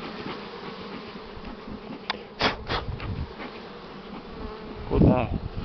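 Honeybees swarming around an opened hive during a spring nest expansion, a steady close buzzing drone with a few louder passes as bees fly near, and some faint handling noises.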